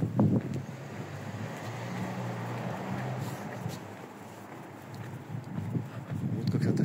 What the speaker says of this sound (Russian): немножко ветер поднялся